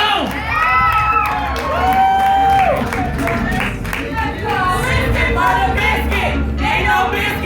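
A poetry slam crowd at the Utah Arts Festival team finals claps, cheers and whoops loudly, with shouts and excited voices rising and falling across the whole stretch in a lively, continuous roar.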